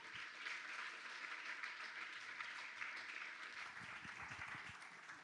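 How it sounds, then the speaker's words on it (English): Audience at a UX Night event at Vinted applauding, a steady wash of many hands clapping at a distance, fairly faint and sustained throughout before tapering slightly. "give a round of applause for Mantas and Giedrius."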